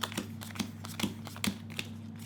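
Playing cards for the deck-building board game Aeon's End are dealt one by one onto a pile: soft, evenly spaced flicks and taps over a low steady hum, with no talking.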